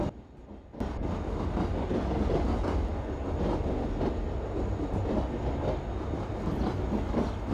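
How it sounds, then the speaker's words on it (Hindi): A train running at speed in the Indian Train Simulator video game: a loud, steady rumble of wheels and carriages that swells in after a brief quieter start and carries on without a break, with no talk. "तो यहाँ पे हमारी ट्रेन मस्त स्पीड से चली जा रही है"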